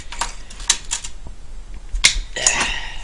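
An ATC 200S transmission being shifted by hand produces a series of sharp metallic clicks and clunks, several separate knocks spaced irregularly in a quiet room.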